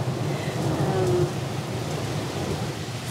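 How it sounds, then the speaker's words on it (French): A thunderstorm fills the air with a steady wash of rain and a low, rumbling roar of distant thunder and wind, continuous and fairly loud throughout. "on entend même l'orage."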